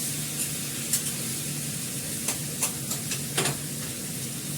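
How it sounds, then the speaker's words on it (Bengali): Fish frying in oil with green chillies, a gentle continuous sizzle under several soft clinks and scrapes as the pieces are stirred and turned. "এর মধ্যে কাঁচা লঙ্কা দিয়ে দিচ্ছি, মাছের মধ্যে একটু ওলট পালট করে দিয়ে জল দিয়ে দেবো।"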